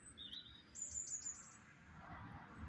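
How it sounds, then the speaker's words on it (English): A blackbird calls in a garden, a few short high chirps and a brief warbling phrase, fairly faint against a soft outdoor background with no talking. "I don't talk blackbird, so I won't have a clue what he's talking about."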